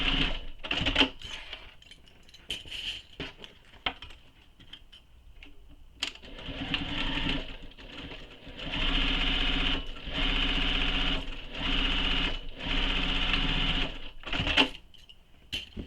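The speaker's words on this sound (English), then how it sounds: "we're going to sew just the sides of the bag using the seam allowance given in the pattern" A domestic sewing machine stitches the side seams of a fabric bag, running in several close, steady bursts of rapid mechanical whirring separated by short pauses and stops.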